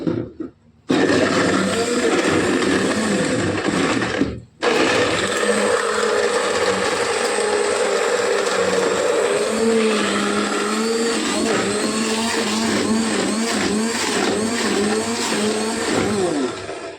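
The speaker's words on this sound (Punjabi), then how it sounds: "ਹੈਂਡੀ ਮਾਰ ਕੇ ਸਰਦਾਈ ਬਿਲਕੁਲ ਤਿਆਰ ਹੋ ਚੁੱਕੀ ਹੈ" A hand blender churns sardai with milk, a loud continuous motor whir with grinding, ratcheting texture running almost unbroken after a brief start and a short pause, close up and without speech.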